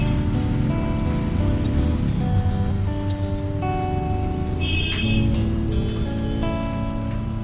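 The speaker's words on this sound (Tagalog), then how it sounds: "Biglaan man yung ulan." Sudden rain falls in a steady, loud hiss that fills the whole stretch, with tonal hums and a brief higher tone threaded through it and no speech.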